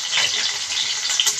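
Curry leaves dropped into hot oil for a tempering, giving a loud, steady sizzle and crackle that fills the moment with no talk over it.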